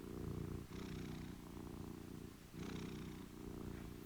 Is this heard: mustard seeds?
no